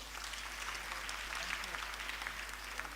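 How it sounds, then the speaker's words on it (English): An audience at a Kenyan National Treasury event claps for the children, a faint, steady patter of applause heard from a distance throughout. "Let's clap for the children."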